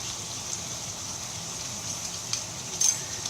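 Rice seasoned with chili flakes and Maggi seasoning is mixed in a hot pan, giving a steady soft sizzle with faint scraping of the stirring utensil, close and fairly quiet.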